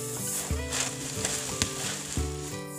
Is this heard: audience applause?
no